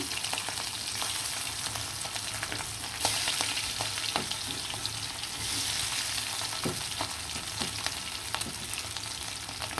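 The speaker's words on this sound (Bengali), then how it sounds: "তেলটা গরম হয়ে আসার পর ইলিশ মাছগুলো দিয়ে দিলাম" Hilsa fish pieces fry in hot oil, giving a continuous close crackling sizzle punctuated by occasional sharper pops and a few scraping stirs, with no voices.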